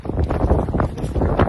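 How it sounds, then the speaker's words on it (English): Strong wind in Patagonia buffets the microphone with loud, continuous gusty roaring and pulsing surges, no voices, a short burst of outdoor wind noise. "it is still wildly windy"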